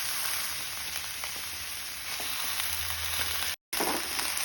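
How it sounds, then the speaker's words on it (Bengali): Malabar spinach goes into a pan of vegetables and soybean and is stirred through, a soft, continuous sizzle with light scraping taps and a brief dropout near the end. "এবার পুঁই শাকগুলো দিয়েও ভালোভাবে আমি একটু নেড়ে মিশিয়ে নেব"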